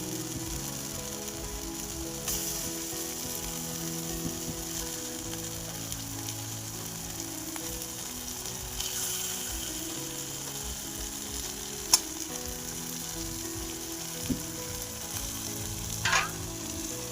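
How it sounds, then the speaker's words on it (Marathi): Green chillies frying in roasted masala in a pan for a fish curry. A steady, moderate sizzle runs throughout, with occasional small pops and clinks. "आपण यामध्ये लगेचच मिरची टाकून घेऊया अशा प्रकारे"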